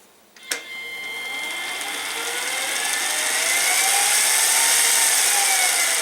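Mini lathe change gears engaged and spinning, starting with a sharp click and building into a steady whirring, gear-meshing whine that grows louder and stays close, with no talk.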